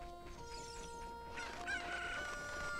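Chickens cluck and crow in a steady game-like soundscape from The Legend of Zelda: Ocarina of Time, with a rooster's cock-a-doodle-doo rising midway over a constant tonal background.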